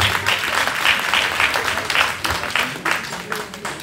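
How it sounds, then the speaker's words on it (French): Audience applause at a gala dinner in Nantes, loud continuous clapping with uneven bursts and a crowd ambience underneath. "Il faut applaudir la personne."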